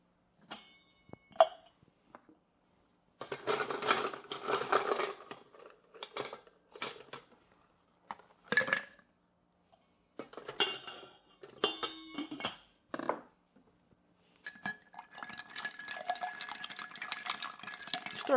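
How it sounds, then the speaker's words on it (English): Ice clinks and rattles against a martini mixing glass in short close bursts of stirring, separated by brief pauses, with no talking. "Next, we're going to add some ice and stir."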